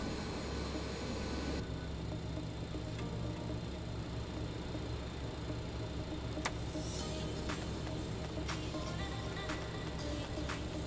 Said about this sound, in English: So we're going to taxi back over to 35.